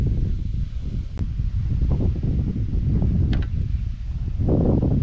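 Gusty wind roaring outdoors beside reeds at a fishing spot, buffeting the microphone, with rustling and a few brief knocks, loud and close throughout.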